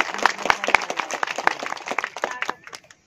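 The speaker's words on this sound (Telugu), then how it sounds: "ఒకసారి గట్టిగా చప్పట్లు పెడితే నేను మాట్లాడతా" An outdoor village gathering in Telangana breaking into loud clapping on request, a dense burst of hand claps from many people that rises quickly and then fades out over about three seconds.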